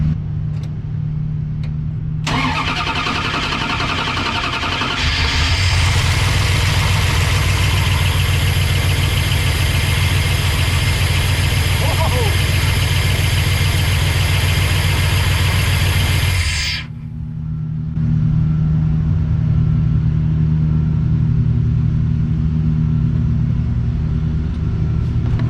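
A 1990s first-generation Dodge Ram W150 4x4 short bed truck cranks and fires up, its engine settling into a loud, steady idle for about ten seconds before cutting off, then a lower rumble continues.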